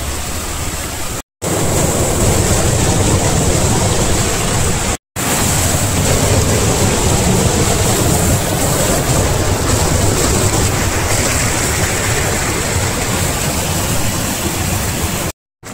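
Heavy rain and floodwater rushing over an eroding hillside road prone to landslides: a constant, loud broadband roar of pouring and flowing water that runs the whole time without talk, broken only by a few very brief dropouts.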